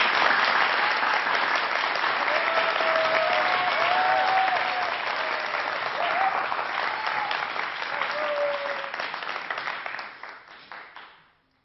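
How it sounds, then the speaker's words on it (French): Studio audience applauding a young comedian's first television appearance on 2M in 1993, a dense, steady wash of clapping that holds for about ten seconds before tapering off, with a few faint voices rising through it. "On l'applaudit."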